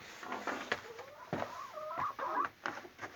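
A hen on a farm clucks repeatedly at close range, a series of short, irregular clucks and squawks with soft patter of movement, no voices.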